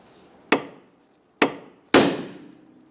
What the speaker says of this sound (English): Just use a hammer and strike right here.